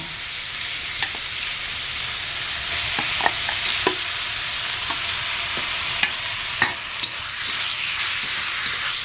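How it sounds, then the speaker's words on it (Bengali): Minced chicken stir-fried with spices and chopped tomato in a pan: a steady, close, hissing sizzle with occasional sharp spatula scrapes and clicks, no voices. "ভালো করে মশলাগুলো কষে নেব এই চিকেন কুচি দেবো"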